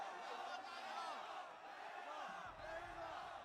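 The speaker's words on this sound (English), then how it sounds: "Oh, I can hear them cheering Reynor." Crowd at a StarCraft II tournament, herO vs Reynor in the Thunderfire SC2 All-Star Invitational, cheering and whooping in a steady, distant roar with scattered shouts.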